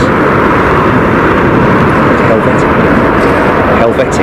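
A Helvetic Airways airliner arriving on runway 27R at London Heathrow makes a loud, close, steady jet roar that fills the whole stretch, with people talking nearby.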